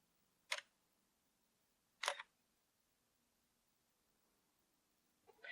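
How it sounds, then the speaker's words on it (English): A camera shutter fires during computer-tethered photo capture, giving two sharp, close mechanical clicks about one and a half seconds apart and a third starting at the end, each distinct against near silence. "I'm going to go ahead and click the button."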